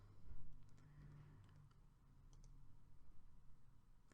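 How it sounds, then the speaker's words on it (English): A computer mouse clicks faintly a few times at close range against quiet room tone, with no talking. "and if I click around,"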